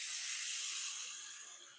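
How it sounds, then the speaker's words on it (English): Onions and garlic sizzling in a pan, a loud, close, steady hiss that slowly fades, with no talk. "let's add in a little bit of garlic now that we're getting a nice little sizzle on these onions"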